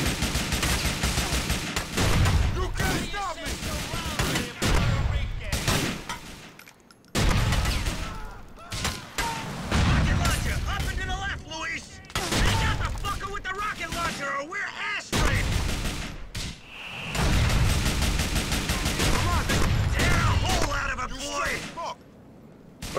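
Gunfire in Grand Theft Auto: The Ballad of Gay Tony on PC, loud bursts and volleys of shots running almost continuously through the stretch, with brief silent gaps between bursts and game sounds layered in.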